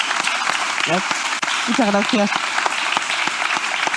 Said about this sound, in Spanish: damos un aplauso a Rosa